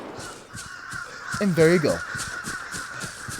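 A few crows cawing in the video game Vigor, a short burst of harsh calls near the middle rising over quiet ambience, while someone speaks briefly.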